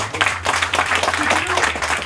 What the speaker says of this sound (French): Et donc je vous demande de l'applaudir.